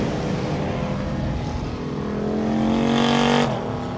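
Esso Thunderstock stock cars race around a track in a heat race, engines roaring loudly as the pack passes close, swelling and rising in pitch toward the end.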